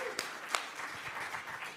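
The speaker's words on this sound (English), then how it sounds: "Round of applause." Audience applause after a volunteer is called up at an unconference session, a fairly faint, steady patter of hand claps lasting under two seconds with a couple of sharper claps near the start.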